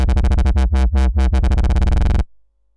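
A held synth note pulses rapidly as a mod wheel sweeps the LFO1 rate, the throbbing slowing to wide gaps then quickening to a fast flutter before cutting off abruptly, loud and without voices.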